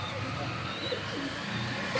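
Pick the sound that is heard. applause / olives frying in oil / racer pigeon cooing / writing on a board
racer pigeon cooing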